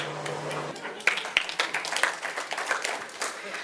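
Audience clapping after a colour-changing card trick, a short burst of scattered applause with talk over it.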